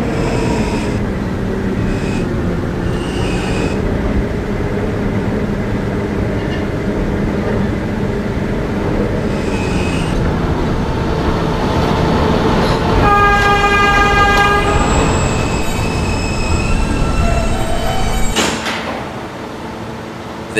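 An R subway train runs at night with a steady rumble and rattle of the cars, and partway through a bright sustained squeal or tone rises over the noise before the sound drops off near the end.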